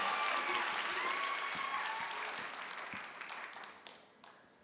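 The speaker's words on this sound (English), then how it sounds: "Yes, good applause." Sustained applause from an audience at a high school theatre festival, a dense wash of clapping that gradually thins and fades out.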